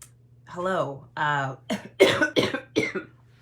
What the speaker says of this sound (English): thought I had all the coughs out of me before I came live